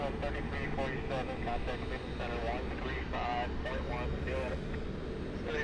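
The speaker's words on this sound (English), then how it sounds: "Delta 2210 taking the runway." A Delta Airbus A321 airliner taking the runway at Cleveland, its engines giving a steady low rumble with shifting whining tones above, while a voice talks over it.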